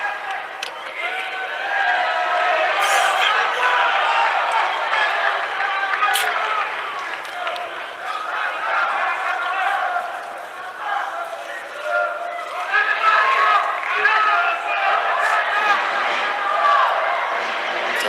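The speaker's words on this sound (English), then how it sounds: "Dutch team cheering for Verhofstadt on." A crowd of Dutch team supporters cheers and shouts steadily at a judo team world championship match, a loud sustained roar with rising bursts of yelling throughout.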